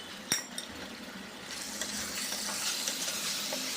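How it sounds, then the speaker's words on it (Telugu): Chicken mixed with ginger garlic is stirred in a pan, opening with a sharp clink of a utensil against metal before a soft, building sizzle and gentle scraping take over, fairly quiet and close. "చికెన్ అంతా వేసేసుకొని ఒకసారి మంచిగా కలిపేసుకోవాలి."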